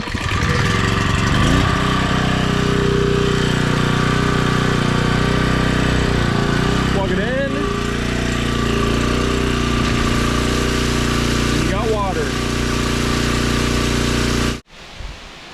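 A generator powering a well at a rural woodland homestead cabin drones steadily and loudly nearby with a constant engine hum, cutting off abruptly near the end.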